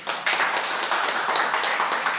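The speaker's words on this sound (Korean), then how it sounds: "큰 박수로" A church congregation at a Sunday worship service breaks into loud applause, a thick continuous rush of many hands clapping together, close and sustained for the whole moment.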